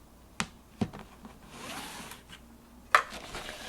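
A Spellbinders Artisan Explorer die-cutting machine runs with small dies and cardstock, giving a few sharp clicks and a brief grinding whir, quiet and close by with no talking.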